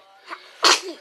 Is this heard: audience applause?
no